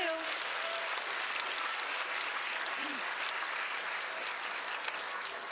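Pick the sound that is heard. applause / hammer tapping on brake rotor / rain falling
applause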